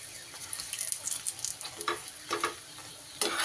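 A sesame-studded paratha fries in a pan while being pressed down, giving a steady close sizzle broken by scraping and pressing bursts, with no voices.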